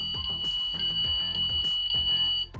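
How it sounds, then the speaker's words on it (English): A Jaguar F-Type's car alarm, set off by opening the door, rings continuously in a steady, high-pitched, unbroken electronic tone, with some low rumbling and movement noise underneath. "it's the alarm's gone off because you've opened the door"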